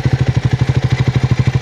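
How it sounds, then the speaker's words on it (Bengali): A new Triumph Scrambler 400 X motorcycle idles with its twin-barrel exhaust, a deep, beefy, even throb pulsing steadily and loud up close, with no voices over it. "তো অ্যাট আইডেল এটা হচ্ছে গাড়ির সাউন্ড"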